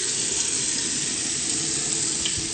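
Tap water pouring steadily into a sink during face washing, a constant close hiss with no pauses.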